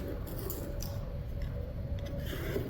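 Scissors snip through a doll's hair for a doll head planter, a close, steady scratchy cutting and rubbing sound without speech.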